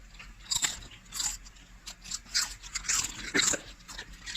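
Several crisp bites and crunches of unsalted homemade potato chips come one after another, close and clear, with chewing in between and no talk.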